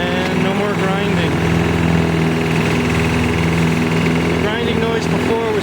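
Toro Personal Pace lawn mower running after a rear wheel drive grinding repair, a close, steady engine drone with a rapid chugging pulse, with a voice talking over it.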